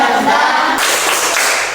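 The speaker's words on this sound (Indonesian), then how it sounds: "Tepuk semangat." A group performs a spirit clap during a lesson: loud, close hand clapping in a dense burst that shifts its pattern partway through.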